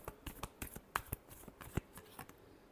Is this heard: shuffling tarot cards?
yes